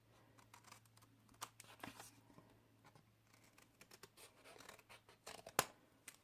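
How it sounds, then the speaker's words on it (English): Quiet, intermittent scissor snips trimming paper tabs and paper rustles, a few sharper cuts scattered among soft handling noises against a low steady hum. "quite simple with a pair of scissors"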